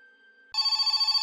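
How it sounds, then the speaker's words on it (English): A telephone rings in a fast, warbling electronic trill that starts abruptly after a faint tone and carries on loud and close. "My phone starts to ring"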